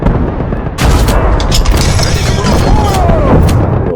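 Artillery and gunfire in the WWII strategy game Call to Arms: Gates of Hell: a sudden loud blast followed by sustained booming and rattling shots, dense and close, with voices mixed in.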